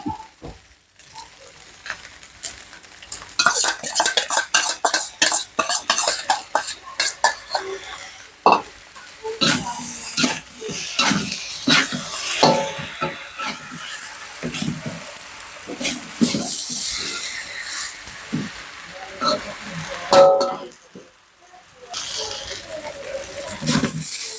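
A large batch of fried rice being stir-fried in a wok, with steady scraping and clattering of the spatula over a continuous sizzle, loud and close, with brief pauses.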